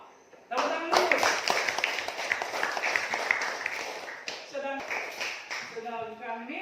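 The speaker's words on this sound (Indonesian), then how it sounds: "Tepuk tangan dulu." Classroom of students clapping for a group, a burst of lively close applause with uneven claps that tapers, while a voice speaks over the end.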